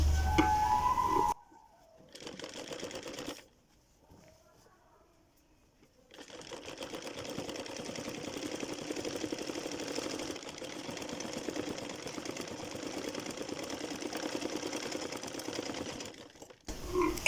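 An electric sewing machine whirs steadily as it stitches pleats into a salwar, with a brief burst at the start, a quiet pause, then a long continuous close run that cuts off near the end.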